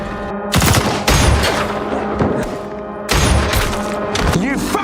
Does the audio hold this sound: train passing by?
no